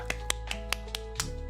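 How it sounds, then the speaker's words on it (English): Six sharp high-five hand slaps that sound like clapping, spaced evenly and quick, standing out clearly over a steady low hum. "That sounds like I'm just clapping, but you know,"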